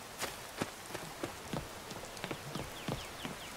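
Rain falls in The Elder Scrolls V: Skyrim, a steady patter with scattered sharper drop ticks on surfaces, moderately quiet and continuous with no voices.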